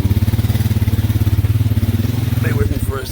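A 2020 Honda Rancher 420 ATV engine throbs steadily up close as the four-wheeler rides over rough, hilly property, its pulsing low drone constant before easing near the end.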